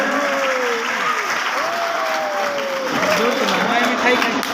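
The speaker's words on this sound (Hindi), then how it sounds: "एक बार इनके लिए जोरदार तालियां हो जाएं" Loud applause for girl students at a teacher award ceremony, a steady wash of clapping from a crowd with a voice speaking over it.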